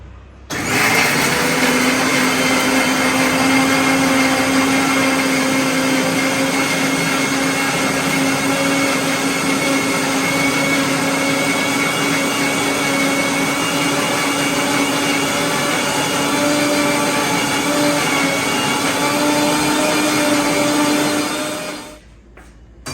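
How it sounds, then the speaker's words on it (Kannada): A wet grinder grinds dosa batter for Indian home cooking, giving a loud, steady motor whir with a grinding rumble that runs unbroken for about twenty seconds and stops abruptly at the end. "ನಾನಿಲ್ಲಿ ದೋಸೆ ಬೀಸೋದಕ್ಕೆ ಅಂತೇಳಿ ಗ್ರೈಂಡರ್ ಹಾಕ್ಕೊಂಡಿದ್ದೀನಿ"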